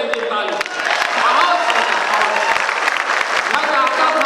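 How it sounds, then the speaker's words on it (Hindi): Loud audience clapping erupts at an international poetry gathering (kavi sammelan and mushaira), dense and sustained, with voices and a faint melodic tone mixed in beneath the applause. "एक बार आदेश दीजिए ताली"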